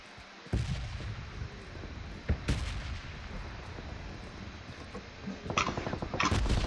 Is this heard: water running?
no